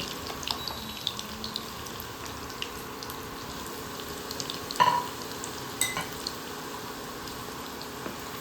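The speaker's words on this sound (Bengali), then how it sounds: "এগুলো পনিরগুলো অনেকটা ভাজা হয়ে আসছে" Steady sizzling of paneer frying in hot oil, a constant crackling hiss with a few louder stirring scrapes partway through.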